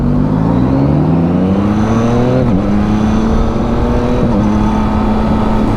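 A 2021 Yamaha MT-09 motorcycle engine accelerating, a loud, close rising whine with two quick dips at gear shifts before climbing again.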